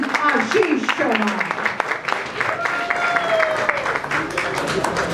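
A crowd applauds at a Hindi film trailer launch as an actor is introduced on stage. Steady, moderately loud clapping runs throughout, with an announcer's voice and crowd noise over it.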